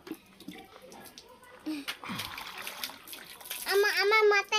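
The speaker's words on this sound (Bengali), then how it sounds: "জল ঢেলে দাও।" Water poured from a mug over a child during a bath, splashing and trickling under chatter from a child and an adult, growing louder toward the end.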